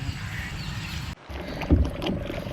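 A boat is rowed through the waterways of Puducherry. Faint water splashes and paddle strokes are heard, with a sharp cut partway and a louder splash near the end, all without talk.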